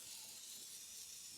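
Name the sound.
spraying WD-40 onto rust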